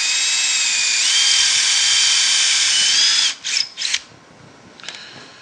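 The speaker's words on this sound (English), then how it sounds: "And here's the plug cutter." A plug cutter in a power drill bores wooden plugs from scrap wood: a loud, steady high-pitched whine for about three seconds, then two short bursts and a faint final spin-down.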